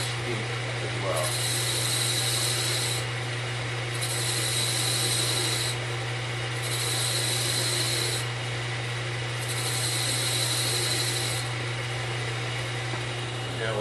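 Lathe tool cutting a flange into the tire of a model wheel, a steady machine hum running under alternating bursts of high scraping as the cut is made in repeated passes, fairly loud and close.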